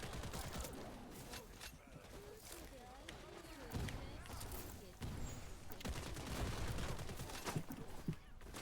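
Bursts of rapid gunfire in the shooter game Wild Assault, several loud volleys and scattered single shots in an irregular rhythm through a busy firefight.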